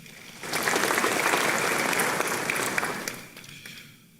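An audience at a law school honorific lecture claps in a full round of applause, a dense burst of many hands that rises quickly, holds steady for about three seconds, then tapers off.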